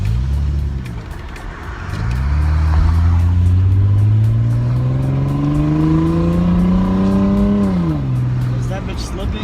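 A car engine with worn motor mounts runs and revs up, a loud rising drone with a steady, even pitch as the car moves, under the noise of the cabin.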